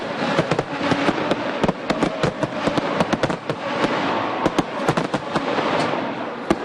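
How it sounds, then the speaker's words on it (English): Fireworks burst over a college football stadium in a dense, continuous barrage of sharp cracks and booming pops that ring out loudly with no pause. "fireworks going on right now"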